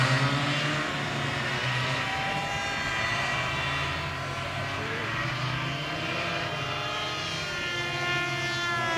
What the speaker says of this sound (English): The aircraft tracking overhead.